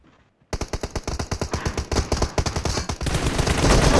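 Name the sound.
gunfire in a video game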